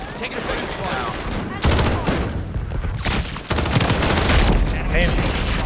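Modern Warfare multiplayer gunfire comes as sustained bursts of loud automatic weapon fire, with brief breaks between volleys, continuous and close throughout.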